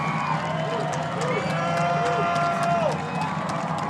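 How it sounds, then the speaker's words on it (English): Crowd noise at a high school football game between West Deptford and Haddonfield on a tense fourth down, a steady roar from the stands with people talking over it. "Crowd on its feet."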